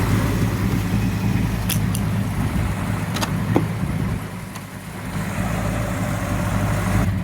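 A 1966 Ford Fairlane GT 390 engine idles steadily while warming up with a low, even rumble, close by and continuous, with a couple of faint clicks in the background.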